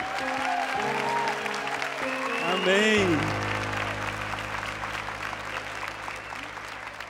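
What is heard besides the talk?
applause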